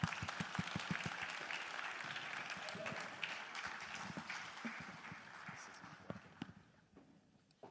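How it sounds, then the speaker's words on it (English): Conference delegates applauding at a keynote and fireside chat event, a broad wash of crowd clapping with sharp individual claps and thumps, gradually thinning out toward the end. "Delegates, let's put our hands together for them."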